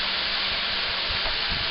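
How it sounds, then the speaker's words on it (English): Chicken broth poured into a hot stir-fry pan with mushrooms and broccoli, giving a steady, close hiss of steam that stays even and unbroken throughout. "add some chicken broth. What that's going to do is create a steaming effect"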